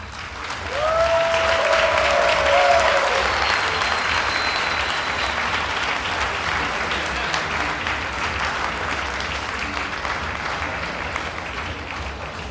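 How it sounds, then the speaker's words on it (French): An audience at an anniversary celebration breaks into steady applause that swells quickly and continues at an even level, with a brief voice or whistle near the start. "Un bon applaudissement."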